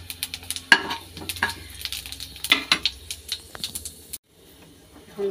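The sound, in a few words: panch phoron spices sizzling in hot oil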